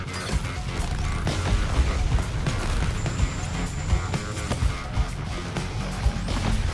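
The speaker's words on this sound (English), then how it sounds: "The cannon is deploying its beam weapon." A boss cannon fires its beam weapon in the video game Suicide Squad: Kill the Justice League, a dense, loud barrage of mechanical crashes and clanks with a thin sustained whine over steady game noise.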